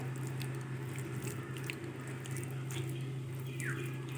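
Mashed beetroot is worked by hand with mustard oil, producing soft, wet squishing and squelching close by, set against a steady low background hum.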